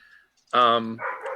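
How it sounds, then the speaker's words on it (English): A single dog barks once, a short, loud, voiced bark followed by a softer trailing yelp. "sorry about my dog."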